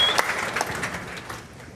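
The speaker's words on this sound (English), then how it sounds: "Give her a big round of applause." Applause from a conference audience greeting a newly promoted leader at a business training event, a short burst of scattered clapping that fades out over about two seconds.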